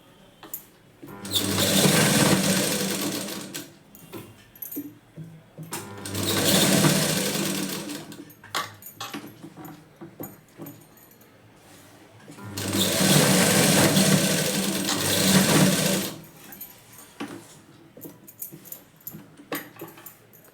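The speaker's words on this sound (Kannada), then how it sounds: "ಈ ರೀತಿ ನೋಡಿಕೊಂಡು ಕರೆಕ್ಟಾಗಿ ಸ್ಟಿಚಿಂಗನ್ನು ಮಾಡ್ಕೊಳ್ಳಿ" A sewing machine stitches the back panel of a blouse in three long, loud runs of steady whirring, broken by quiet pauses with small clicks and fabric handling.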